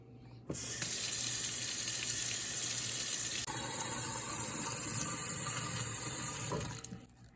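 Warm water runs from a kitchen tap to fill two cups for focaccia dough, a steady loud gush that starts abruptly, shifts slightly in tone midway as the cup fills, then cuts off.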